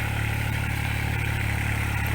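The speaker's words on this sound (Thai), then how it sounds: "เอารถไถมาไถตีไปก่อนครับ" A walk-behind tractor engine runs steadily while ploughing a wet vegetable plot for replanting, a continuous close low mechanical drone with faint clatter and no talk.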